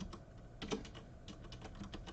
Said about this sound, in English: idiotic typing. There you go.